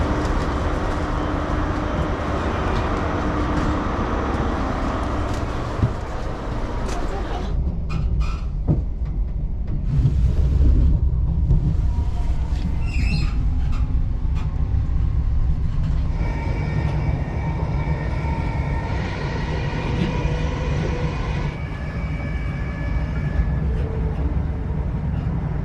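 A large train pulls into a UK station, a loud rolling rumble and rail noise that eases as it slows, with squeals and hiss near the end as it comes to a stop.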